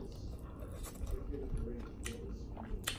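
Wet, squishy chewing of a hot bite of enchiladas verdes, close and steady for a few seconds, with soft mouth noises and brief crisp clicks.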